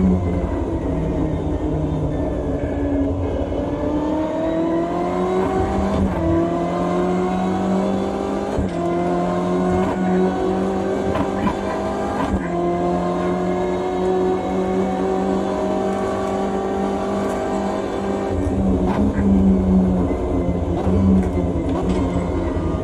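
A BMW M8 GTE race car on the Nordschleife in morning fog in a racing game holds a loud, steady engine drone, its pitch gliding up and down as the throttle eases, with gear shifts breaking the tone.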